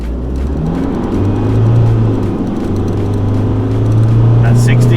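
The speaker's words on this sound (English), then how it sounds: "we're just going to pull up here and do our 0 to 60 run" A 2018 Isuzu D-Max pulls away from a standstill at full throttle for a 0 to 60 run, its engine drone building and holding steady, loud and close from inside the cab.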